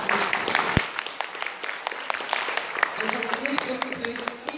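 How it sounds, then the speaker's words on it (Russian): An audience claps at an awards ceremony, the applause close and continuous, with voices talking over it throughout. "Вам искренне большие аплодисменты."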